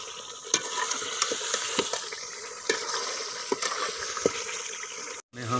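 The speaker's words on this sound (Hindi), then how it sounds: "2 मिनट इसको अच्छी तरह भूनेंगे।" Red chilli powder and turmeric fry in oil for chicken biryani, giving a steady close sizzle with repeated scraping stir strokes and a brief drop to silence near the end.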